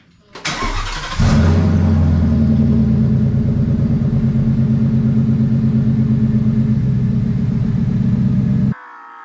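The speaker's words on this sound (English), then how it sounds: "All right, guys, so got the truck pulled out." A 1963 Ford F100 truck with a swapped unibody frame and freshly installed suspension starts up, then its engine runs steadily and loudly for several seconds, close by, before cutting off near the end.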